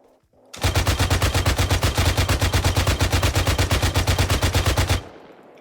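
Sustained automatic gunfire in the military shooter game Arma 3, a loud, close burst of rapid evenly spaced shots lasting several seconds before cutting off into a brief fading echo.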